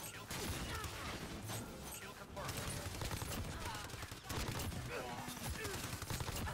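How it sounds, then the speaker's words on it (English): Gunfire in Modern Warfare on the cramped Shipment map. Dense, constant automatic fire and overlapping shots from many weapons fill the whole stretch, with chaotic clatter and impacts throughout. "Shoot as many ammo as you can into this little"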